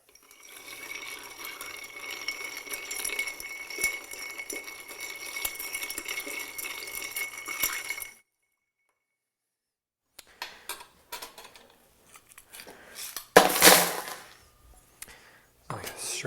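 Ice clinks and rattles as a Corpse Reviver cocktail of brandy is stirred in a mixing glass, a steady soft churning for several seconds, then silence before a few scattered clinks and one louder clatter.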